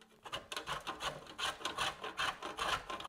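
Dark chocolate scraped against a grater in quick repeated strokes, a close, gritty rasp with a steady back-and-forth rhythm and no talking.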